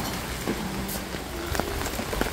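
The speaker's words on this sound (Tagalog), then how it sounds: "Lurok ang ulan." Heavy typhoon rain pours down in a dense, continuous wash of drops hitting surfaces nearby, with scattered louder splats throughout.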